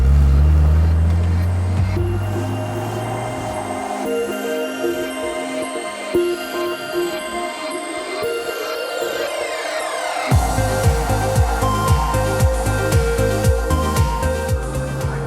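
Isuzu Impulse RS Turbo engine pulling hard on boost in third gear, a loud in-cabin drone rising steadily in pitch toward about 5,000 RPM, then dropping after a shift and climbing again.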